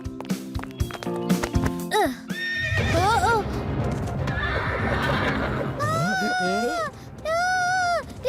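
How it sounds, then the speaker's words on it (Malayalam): A horse neighs several times in loud, rising whinnies, with clip-clopping hooves and a voice talking over parts of the sound. "ഈ കുതിര സമാധാനമുള്ള കുതിരയാണോ?"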